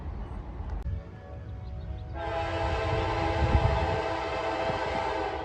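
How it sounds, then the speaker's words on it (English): A fast train passing on a rail line, its horn sounding steadily over a rumbling roar of wheels and cars, loud and close for several seconds without talk. "All right, this train went up a while ago."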